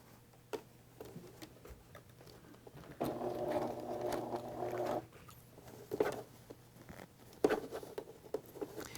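Sewing machine runs a long basting stitch around a set-in sleeve at a 5/8 inch seam allowance, quiet and close, in short starts and stops among faint handling noises.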